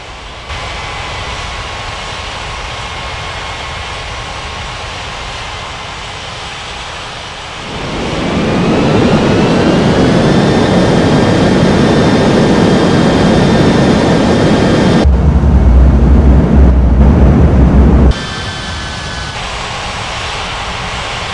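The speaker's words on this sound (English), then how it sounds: "Bali Tower, AirAsia 8307, ready for takeoff runway 27." Jet airliner roaring down the runway for takeoff in an air traffic control simulation at Ngurah Rai Bali International, its engine noise swelling after a steady whine and holding loud, with a brief abrupt change near the end.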